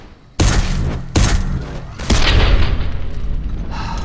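A companion opening fire in Fallout New Vegas: three heavy, booming gunshots land about a second apart. Each is loud and close, and a rumbling tail carries on after the last one.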